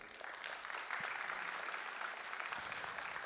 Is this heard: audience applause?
yes